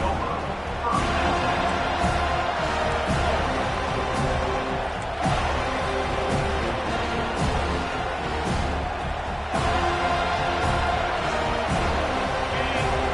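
Stadium crowd noise from a college football game fills the clip with a steady roar of hubbub and cheering, with occasional thumps, while a commentator talks over it.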